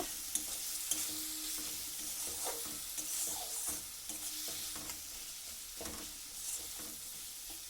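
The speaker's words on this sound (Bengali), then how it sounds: "এবার সব একসাথে ভালো করে এটাকে একটু কষিয়ে নেব।" Spices and ginger garlic paste sauté in a pan with a soft, steady sizzle, broken by scraping stirs and light clinks of the utensil at irregular intervals, fairly quiet and with no talking.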